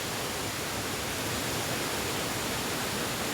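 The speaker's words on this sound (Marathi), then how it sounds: "सुंदर असं निसर्गरम्य वातावरणात वसलेला धबधबा" A waterfall in the Konkan countryside pours down with a dense, unbroken roar that fills the scene evenly and steadily from start to finish.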